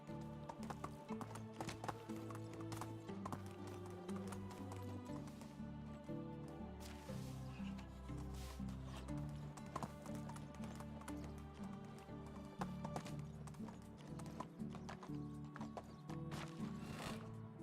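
A horse gallops in the medieval village-building game Medieval Dynasty, giving rapid rhythmic hoofbeats under a game music bed, steady and fairly faint throughout.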